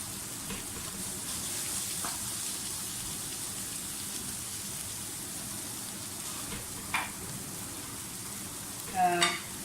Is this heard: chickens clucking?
no